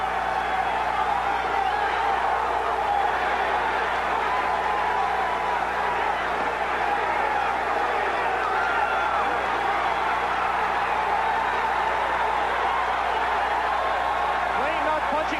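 A boxing arena crowd roars steadily throughout a bout, cheering on Pernell Whitaker against Layne, with a commentator speaking over the dense crowd noise.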